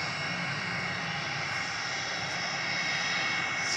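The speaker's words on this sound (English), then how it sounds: "watching some Hawaiian Airlines planes taking off and landing" Hawaiian Airlines jet at Hilo Airport, a steady loud engine roar held throughout, heard from nearby on the field without voices.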